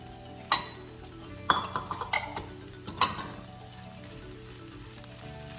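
Mozzarella cheese sprinkled and stirred into a mushroom stuffing in a pan: a few distinct utensil clinks and scrapes against the pan, spaced apart, over a faint sizzle, close and fairly quiet.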